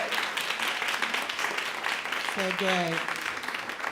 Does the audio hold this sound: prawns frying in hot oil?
no